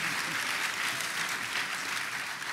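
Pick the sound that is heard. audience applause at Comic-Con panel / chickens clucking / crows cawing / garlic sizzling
audience applause at Comic-Con panel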